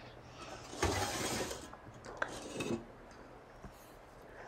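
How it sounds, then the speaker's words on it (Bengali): A bowl is set into a Ninja pressure cooker, giving two soft clattering knocks of metal and plastic about two seconds apart, close by and quiet in a still kitchen. "বোলটাকে ধরে পুরো প্রেশার কুকারে বসিয়ে দিলাম"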